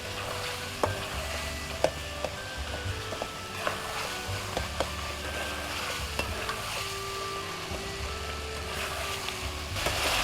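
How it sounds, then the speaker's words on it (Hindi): Mutton karahi with tomatoes fries in a pan, a steady close sizzle broken by scraping stirring strokes, with no talking. "इसको भूनते कम से कम 5-6 मिनट आपको ज़रूर लगेंगे"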